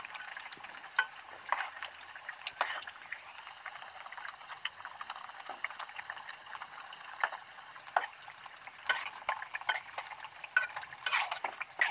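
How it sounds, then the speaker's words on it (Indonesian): Kuping gajah chips deep-frying in oil, a steady crackling sizzle with dense bubbling spatter and frequent sharper pops throughout, moderately loud and close with no voices. "Ini cepat proses menggorengnya teman-teman"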